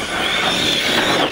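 ARRMA Kraton 6S RC car motor screaming on a fast pass, a loud, high electric whine that rises and holds over about a second, close by with no talk.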